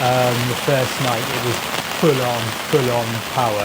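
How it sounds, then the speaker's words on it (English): Rain falls steadily on a tent during a September camping trip on Dartmoor, a continuous close patter beneath a person talking throughout. "that's the sound of rain on the tent."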